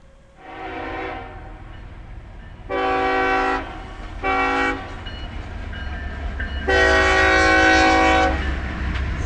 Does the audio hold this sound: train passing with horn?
yes